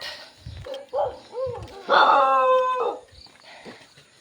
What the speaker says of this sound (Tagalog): Makipag-away pa yung mga dog na yan.